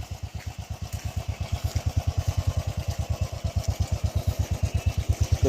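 Motorcycle engine running steadily near a flooded road at Manjoora, Wayanad, with a close, even chugging pulse throughout and no talk.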